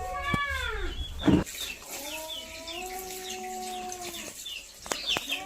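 Several birds call in a yard, with chicken clucks and squawks plus longer drawn-out cries, a brief loud clatter partway through.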